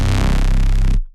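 Fatboy Reese bass synth patch from the Hardware Bass plugin, bass boosted, heard as one short, thick, buzzing low note that stops abruptly.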